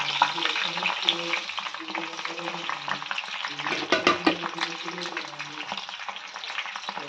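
Sliced onions fry in hot oil in a home kitchen pan, a dense continuous sizzle with crackling pops and the scrape of stirring, close and loud with no talk.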